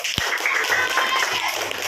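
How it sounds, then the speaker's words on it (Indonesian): A classroom of fourth-grade pupils claps for group 5 after its members are named, a dense patter of close, lively hand claps with some chatter mixed in. "Tepuk tangan untuk kelompok 5."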